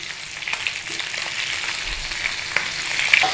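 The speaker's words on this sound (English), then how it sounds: "I'm trying to actually put a bit of a sear cooking on the tomato on the top" Tomatoes sear in a frying pan for a full English breakfast, giving a close, even sizzle with small crackles and spits throughout.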